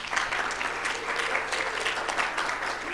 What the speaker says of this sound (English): we need to give Mrs. Holloway a round of applause